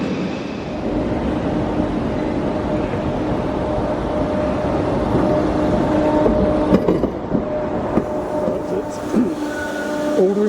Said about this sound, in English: Adlington and the Southern Coastway train departs